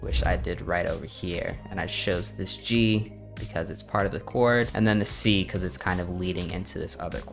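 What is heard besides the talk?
No everyday noise stands out behind the speech.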